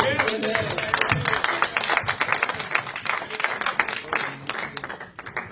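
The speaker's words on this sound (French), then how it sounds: "Applaudissez pour nous." A church congregation applauds during a sermon, with scattered, uneven clapping that stays fairly soft and steady over a few seconds while a voice speaks over it.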